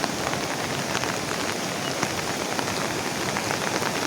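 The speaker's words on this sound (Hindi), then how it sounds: "और बारिश देखो" Steady, heavy rain pouring down and pattering on surfaces, a continuous dense hiss with no pauses.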